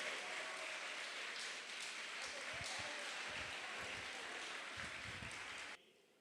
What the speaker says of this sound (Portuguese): Uma salva de palmas para as mulheres.